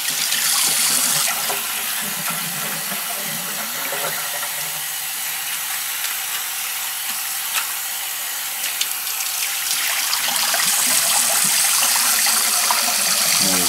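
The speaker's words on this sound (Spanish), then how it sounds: "Vamos a enjuagarla con agua." Tap water runs steadily over raw spaghetti squash being rinsed in a sink, a continuous splashing stream that holds for the whole stretch with slight changes in flow.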